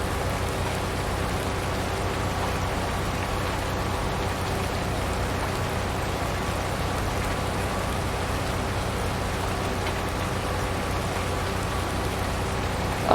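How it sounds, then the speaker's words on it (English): Steady rain from the Farming Simulator game, a dense even hiss that holds at the same level the whole way through, with no voices over it. "turn down the rain sound"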